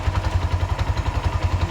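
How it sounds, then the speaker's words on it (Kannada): A Bajaj motorcycle engine with a worn-out carburettor and a silencer missing its filter runs with a rough, throbbing exhaust note, close and steady with a regular pulsing beat and a faint metallic clatter. "ಅದ್ರ ಸೈಲೆನ್ಸರ್ ರಫ್ ಸೌಂಡು"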